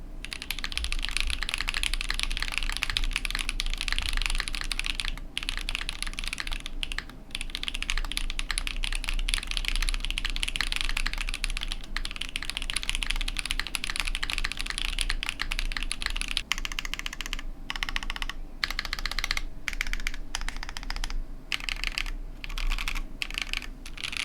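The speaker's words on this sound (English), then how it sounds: "When using the long pole Gateron cream sodas on PCB gasket mount, it sounded pretty good, even without any kind of foam" Steady, continuous typing on a $149 mechanical keyboard with numpad, fitted with long-pole Gateron Cream Soda switches in a PCB gasket mount with no foam. The dense, even keystrokes run close and alone throughout, with a few brief pauses near the end.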